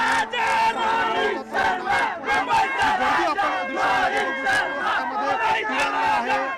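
A loud, dense crowd in Nashik cheers and shouts in celebration after India's Champions Trophy win, with waves of yelling and chanting voices continuing throughout.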